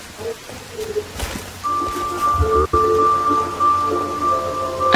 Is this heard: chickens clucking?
no